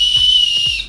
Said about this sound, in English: it has a little whistle